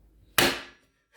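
A cleaver comes down hard on garlic cloves while spareribs with black bean sauce are being made: one sharp, close smack that rings briefly and fades within half a second.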